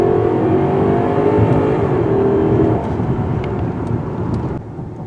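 A 2020 Genesis G90 V8 accelerates with a deep, loud engine roar that holds steady, then eases slightly in level as the run continues.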